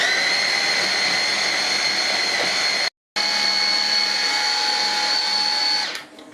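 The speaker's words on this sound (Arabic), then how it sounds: "المهم انا غادي نبقى مستمره كنطحن حتى كنحصل على الخليط اللي بغيت" Blender grinding frozen strawberries for homemade ice cream, a loud steady motor whir with a brief cut-out partway, then running on before spinning down; no talking.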